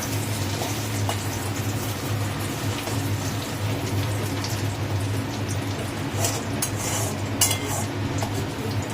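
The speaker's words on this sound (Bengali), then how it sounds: "এবার তেলের মধ্যে মা তেজপাতা দিয়ে দিল।" Bay leaves fry in hot oil in a home kitchen, giving a steady, even crackling hiss that carries on throughout, with a faint low hum underneath.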